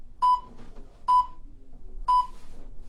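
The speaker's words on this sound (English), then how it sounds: "Less than 10 seconds, listen out for the 3 beeps." Three short electronic workout-timer beeps sound about a second apart, evenly spaced and clear above a quiet room background.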